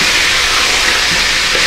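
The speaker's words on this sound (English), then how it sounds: "just flip them right over. That sizzling everything." Seasoned sorrel chicken pieces browning in a hot pan give off a loud, steady sizzle. The hiss is close and fills the whole short stretch without a break, and no one talks over it.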